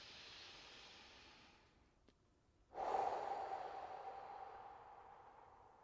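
A person takes a slow, calming breath during a relaxation exercise, a soft breathy exhale that swells and then trails off gently, close and alone after a brief quiet pause.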